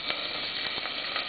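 Chopped ginger sizzles steadily in a saucepan of hot olive oil, a dense, even frying hiss with faint crackles throughout and no voices.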